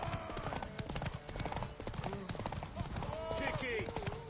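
Horse hooves clip-clopping at a quick steady pace in The Witcher 3 video game, the rapid hoofbeats running throughout under lively shouting voices and surrounding noise.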